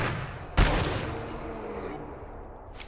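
A single sharp gunshot from the co-op shooter game GTFO cracks loud and close, followed by a decaying echoing tail and low ambient hum, with a smaller click near the end.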